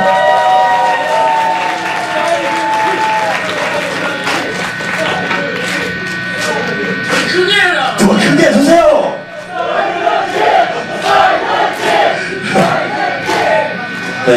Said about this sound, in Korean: 사이드킥 감독님께 박수 주십시오.